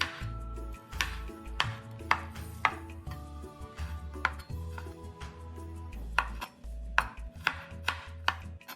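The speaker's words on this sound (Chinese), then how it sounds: "3朵泡软后香菇，一样切丁" A knife dicing soaked shiitake mushrooms on a cutting board, with quick irregular chopping taps close up, some louder thuds among softer cuts, no voices.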